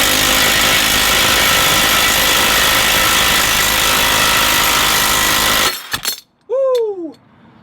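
Impact wrench on mid torque hammering loose a BMW E36 ball joint, a loud continuous rattling blast that stops abruptly, followed by a short exclamation from a voice.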